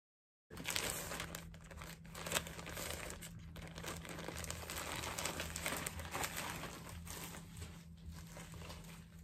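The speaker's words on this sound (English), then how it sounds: "Always a little piece of paper." Paper crinkles steadily up close as a spring clothing order from a fast-fashion retailer is unpacked, a continuous rustle of moderate loudness with no talking.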